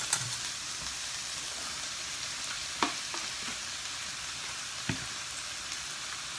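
Slivered shiitake mushrooms sizzle and fry steadily in a hot pan, a bright continuous crackle with a couple of sharp clinks from stirring, and no one talking.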